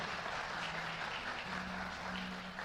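A church congregation applauds at a Christmas celebration service, steady dense clapping filling the room throughout, with a low sustained tone underneath and no talking.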